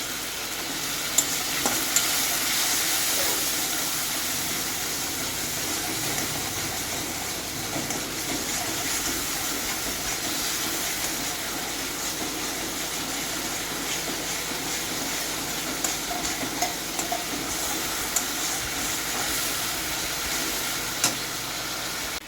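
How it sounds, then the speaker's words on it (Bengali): Spices frying with turmeric and salt in a pan, a steady dense sizzle that holds evenly throughout with occasional faint clicks and no talking. "মশলাটা দেখো ভাজা ভাজা হয়ে গেছে।"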